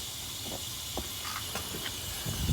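Air system of a Kenworth truck filling, a faint steady hiss with a few small clicks and a low rumble near the end.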